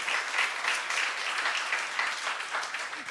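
A church youth congregation applauds at a worship service, with dense, steady clapping from many hands filling the room at an even level throughout, with no voices standing out.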